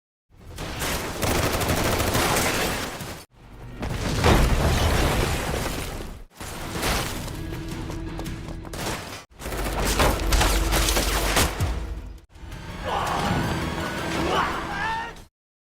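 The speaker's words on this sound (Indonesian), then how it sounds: "Terjadilah baku tembak antara Andrew CS dan juga geng Mala." Gunfire in a film shootout: rapid bursts of automatic and single shots in five loud sections separated by brief silences, mixed with crashes and impacts.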